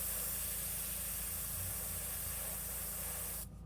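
Steady, close airbrush spray hissing continuously as a fine, even stream of air and paint, cutting off abruptly near the end.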